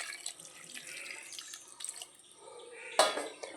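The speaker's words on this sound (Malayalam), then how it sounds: "നമുക്കിതിലേക്ക് കുറച്ച് വെള്ളം ഒഴിച്ചു കൊടുക്കാം." Water is poured into a pot of ripe Chandrakkala mangoes, a bright splashing stream rising after a stretch of quiet clinking, close and fairly soft, with no talk.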